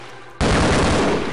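Sudden loud burst of rapid gunfire in the video game Half-Life, breaking in abruptly after a quiet moment and continuing as a dense, continuous barrage to the end.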